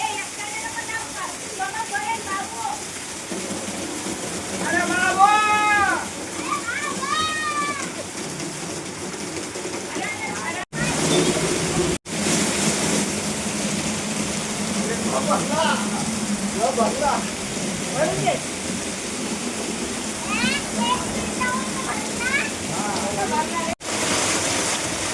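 Rainwater pours off a roof in a steady, rushing stream during a downpour, with voices talking over it throughout.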